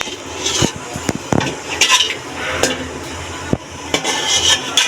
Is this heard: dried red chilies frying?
yes